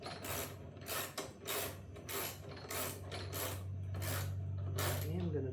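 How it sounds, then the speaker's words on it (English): A wrench ratchets repeatedly while tightening the roller on a Sun Joe electric reel mower, producing a rapid series of close metallic clicks in rhythmic bursts over a low steady hum. "What I am gonna do is actually put the wrench on there, so I'm actually tightening this"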